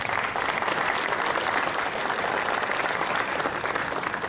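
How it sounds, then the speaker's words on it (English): Audience applause for university choir singers at an alumni spring reunion concert, a dense, steady burst of clapping that holds at an even level throughout. "Could you please give one more round of applause?"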